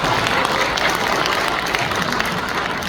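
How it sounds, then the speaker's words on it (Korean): Congregation applauding at a church general-assembly opening worship service, a dense steady wash of many hands clapping throughout, fairly loud and close, with no speech over it. "이럴 때는 박수를 치셔야죠."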